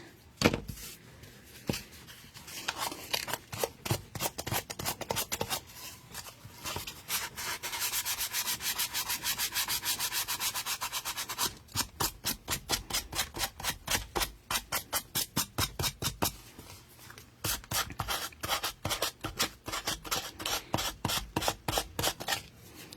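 Steady back-and-forth sanding strokes, close and fairly loud, in quick rhythmic bursts with brief pauses between runs.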